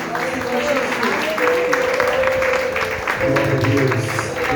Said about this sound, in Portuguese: E as palmas agora no nome do Senhor Jesus.